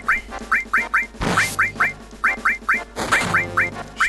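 A bird in the Final Fantasy 7 video game squawks repeatedly in quick, quacking bursts, grouped calls of three or four falling in a steady rhythm, loud and close over a low game background with a couple of sharp swooshing hits.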